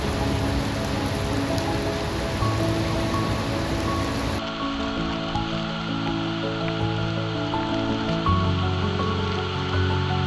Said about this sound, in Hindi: बहुत तेज़ बारिश स्टार्ट होगी यहाँ पर